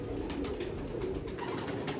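A pigeon cooing close by in a loft, a continuous low rolling coo over steady background noise.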